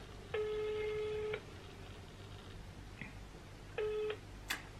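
Ringback tone of an outgoing phone call: a steady electronic tone rings for about a second, falls silent, then starts again briefly, followed by a sharp click at the end.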